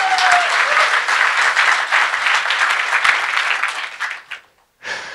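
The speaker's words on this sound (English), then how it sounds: "Thanks for the applause." Hackfest 2015 conference audience applauding a hacker presenter, dense steady clapping that fills most of the clip before fading out near the end, followed by a short burst of sound.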